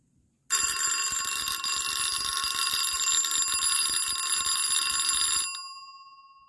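An Edwards 3-inch monitor bell rings loudly and continuously for about five seconds, a rapid metallic clatter of the striker, then cuts off and fades with a brief ringing tail.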